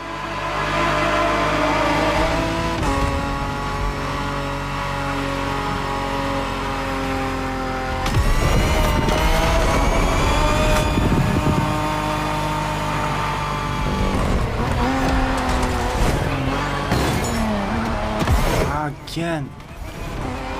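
Race car engine in The Crew Motorfest, a loud continuous drone with shifting revs and a sharp change as the car hits a corner and slows, steady and close throughout with speech faintly mixed in.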